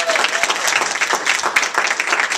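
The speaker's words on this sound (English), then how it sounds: "Give him a big round of applause." A comedy club crowd in Las Vegas gives a dense, loud round of applause for a comic, with a thick, steady wash of clapping and a few cheers throughout.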